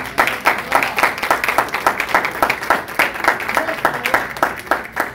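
A church congregation applauds the bishop in a run of rhythmic, fairly close hand claps, loud and regular throughout with no talking over it.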